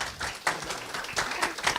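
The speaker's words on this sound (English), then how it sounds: "let's give it a clap" Audience at a university entrepreneurship week panel in Houston clapping, a brief patter of hand claps in uneven bursts, fairly close and moderate in level.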